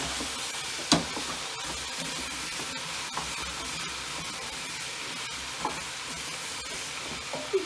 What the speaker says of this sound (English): I'm going to add 2/3 of Leeks so I can get an idea where we're at. Again, mix it well.